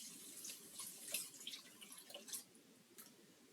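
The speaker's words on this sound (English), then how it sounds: "I'm gonna add my 4 cups of water." Four cups of water pour from a tap-like stream into a pot of squash soup, a steady close splashing trickle with small drips and no talking.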